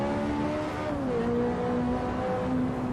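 A Mazda MX-5 on slick tyres pulls hard in fourth gear, its engine note climbing steadily and loud up close, with a brief dip in pitch partway through before it rises again.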